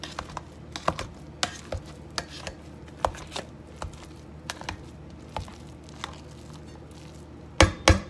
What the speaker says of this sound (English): See, we're getting mashed potatoes.